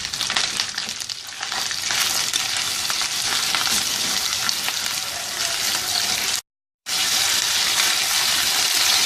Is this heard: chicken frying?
yes